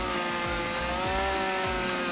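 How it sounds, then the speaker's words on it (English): Chainsaws cutting wood to free a trapped tractor, a continuous loud motor whine with a few rhythmic bogging dips as the blade bites, close and steady with no voices. "Let's use our chainsaws to free the tractor!"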